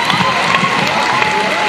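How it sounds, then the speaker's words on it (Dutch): Audience at a youth arts competition award ceremony cheering and clapping, a dense, loud crowd roar with shouts mixed into continuous applause throughout. "laten we eerst vragen voor een applaus voor degenen die het niet gehaald hebben"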